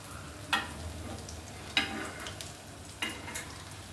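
Paneer tikka pieces are flipped in a hot pan, three sharp scraping clacks of turning spaced about a second apart over a quiet ongoing sizzle.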